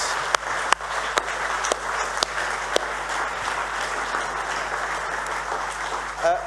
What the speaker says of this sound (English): I think we should just give them a massive round of applause